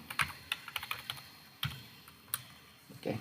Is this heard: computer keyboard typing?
yes